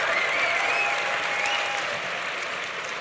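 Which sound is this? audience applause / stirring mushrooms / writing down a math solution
audience applause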